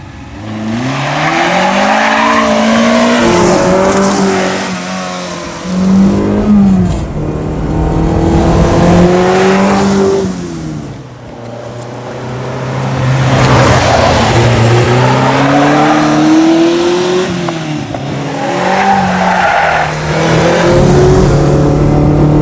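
Ferrari 308 GTB with original headers and muffler driving on Bangkok streets, its engine loud and close, revving up and easing off repeatedly through gear changes.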